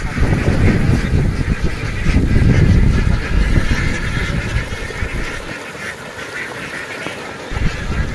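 A large flock of farm ducks quacks and honks continuously, loud and close, with overlapping calls filling the scene and no clear talk over it.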